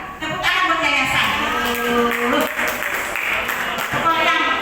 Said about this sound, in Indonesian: Tepuk tangan buat yayasan.